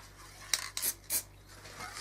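A spray can sprays trailer side panels in quick short bursts, several faint hisses spaced unevenly with quiet gaps between.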